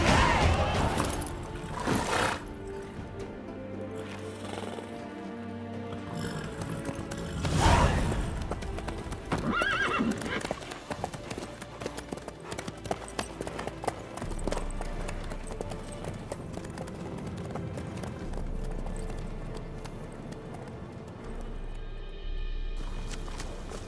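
Hooves clip-clop steadily beneath a horse's neigh while riding in The Witcher 3: Wild Hunt video game, with speakers talking over the gait throughout.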